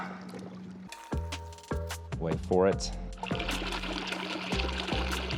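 A robotic pool cleaner hits the pool water with a splash and gurgling, followed by trickling and churning water as it starts up, while a person speaks briefly nearby.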